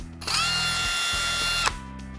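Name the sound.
Ryobi ONE+ 18V cordless brushless drill driving screws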